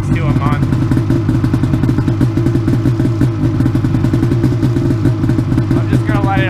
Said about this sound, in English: I'm just gonna let it idle before I start spinning the track at all.